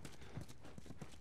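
Faint, rhythmic clip-clop of horse hooves in the video game The Last of Us Remastered on PS4, soft low thuds at an unhurried walking pace under a quiet background.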